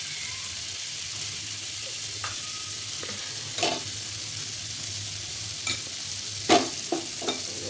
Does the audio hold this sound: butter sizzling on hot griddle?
yes